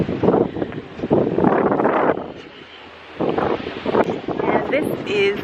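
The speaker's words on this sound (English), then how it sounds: "but it's windy." Wind buffets a handheld microphone outdoors on a hot day at Lake Mead National Recreation Area near Hoover Dam, coming in loud rumbling gusts with a calmer lull in the middle, while a person talks over it.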